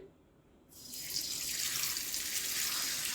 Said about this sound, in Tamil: இப்போ சாலை மீன் பொறிச்சிடலாம் அடுப்பில் எண்ணெய் வச்சாச்சு போட்டுடலாம் எண்ணெய் காஞ்சிருக்கு